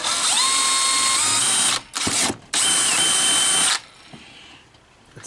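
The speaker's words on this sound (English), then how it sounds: "next I'm just gonna drill a small hole in the plastic so I route my wire through" Power drill boring a small hole through plastic on a TRD Pro grille, a loud close whine in two bursts split by a quick stop-and-start, then a fainter mechanical rattle.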